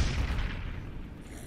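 A dynamite explosion in the video game Dead Rising 3: a deep, rumbling boom that is loudest at the start and slowly fades away.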